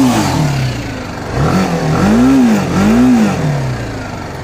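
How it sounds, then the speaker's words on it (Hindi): A 2019 BMW G310 GS motorcycle on its stock exhaust revs up close and loud, its engine note climbing and falling in two distinct throttle blips over a steady idle rumble, with no talk heard. "This stock exhaust."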